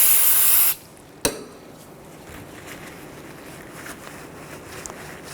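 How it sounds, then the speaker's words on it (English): Brake parts cleaner sprays in a short, sharp hiss onto the caliper pins of a 2005-09 Volkswagen Jetta, followed by a single metallic tap and quiet garage background. "Use some brake parts cleaner."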